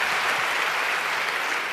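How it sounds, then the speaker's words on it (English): An audience at a Princess Bride Q&A event applauds, a dense, even wash of clapping from many hands that holds steady and loud with no talking over it. "Give an applause to Norman Lear."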